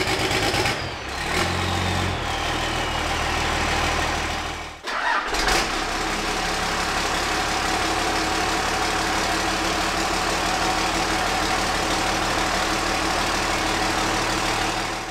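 A Cummins diesel engine swapped into a car cranks and catches, then settles into a steady, loud idle that runs on evenly with a constant low rumble.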